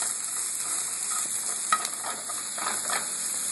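Onions and mushrooms are stirred in a frying pan while cooking for Salisbury steak: a steady, soft sizzle runs throughout, broken by a few scraping strokes of the utensil, with no talking.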